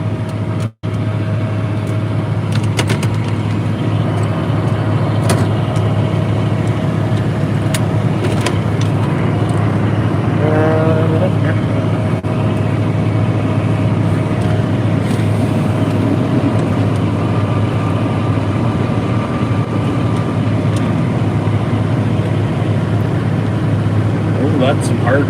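Snow blowers run steadily while clearing hard-packed snow, a loud, constant engine drone that holds for the whole stretch with little change, and voices occasionally talk over it.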